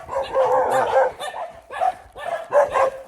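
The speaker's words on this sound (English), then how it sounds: "Same dog, literally, all the way down the street." Several close, loud dog barks on a street, coming in bursts with short pauses between them.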